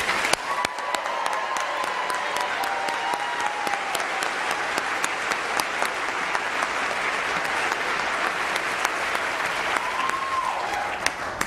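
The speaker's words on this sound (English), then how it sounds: "please join me in giving them another round of applause." Sustained audience applause fills a large hall, a dense, even roar of clapping with a few sharper nearby claps standing out, moderately loud and continuing throughout.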